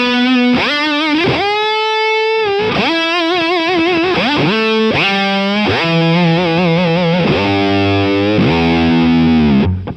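A heavily distorted electric guitar through an amp preset performs repeated dive bombs, each note sliding downward in pitch, ending in a deep, descending, warbling drop; loud and continuous with no talking.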